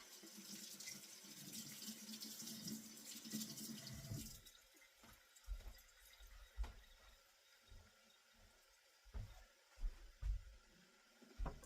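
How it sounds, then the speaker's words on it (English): A kitchen tap runs water for a quick hand wash, a steady close gush for about four seconds before it stops, followed by faint clatter and soft handling sounds. "We do a quick washing of the hands"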